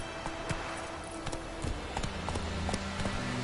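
Roach, a horse in The Witcher video game, gallops in a quick irregular rhythm of clip-clopping hoofbeats over a dense, steady background wash.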